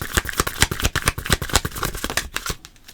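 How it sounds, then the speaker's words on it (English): Someone rapidly shuffles a deck of Cosmic Insight cards, giving a quick, close train of crisp riffling clicks that thins out near the end; no one speaks. "I'm going to go ahead and shuffle and see what we got"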